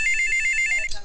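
A telephone rings with a bright, steady electronic ringtone, loud and close, for about a second before it cuts off.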